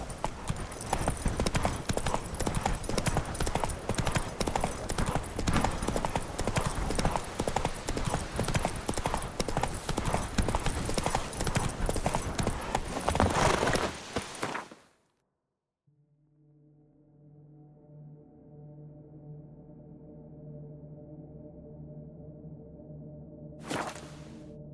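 A horse galloping in The Witcher 3, loud rhythmic hoofbeats pounding steadily for about fifteen seconds, then cutting off into a quiet, low droning tone with a brief sharp swish near the end.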